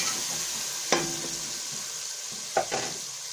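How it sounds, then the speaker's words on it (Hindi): Tomatoes frying in a pan, softened and mushy, for a spicy black masoor dal, a steady sizzle running throughout with two sharp stirring scrapes of a spoon against the pan. "टमाटरों को उतने तक भूनेंगे जितने तक टमाटर हमारे गल नहीं जाते और नरम नहीं होते।"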